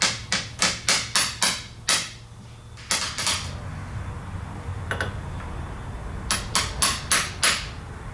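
A mid-sized hammer taps metal on a KTM 65SX motorcycle in quick bursts of sharp, ringing strikes, pausing between groups, close and fairly loud with no talking.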